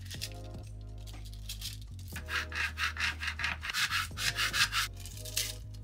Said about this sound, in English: you really have to scrape it on and make sure it's really sticking to your surface